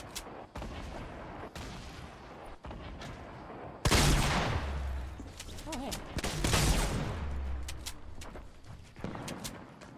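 Grenade launcher rounds fire and explode in the video game Fortnite, a series of sharp gunfire cracks followed by a loud booming blast and rumbling explosions.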